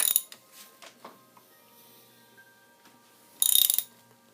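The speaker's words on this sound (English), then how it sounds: "So we're going to rotate the engine counterclockwise." A ratchet turns a Honda VF750F motorcycle engine counterclockwise during a teardown: a few soft mechanical clicks and turning noises near the start, then a louder burst of ratcheting close by near the end, with no talk.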